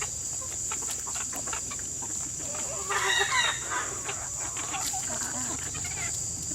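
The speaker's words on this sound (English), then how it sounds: "We got some snacks for breakfast, you lucky chickens." Backyard chickens cluck and murmur at morning feeding time, with soft, scattered calls and one busier flurry midway, over a steady outdoor background hum.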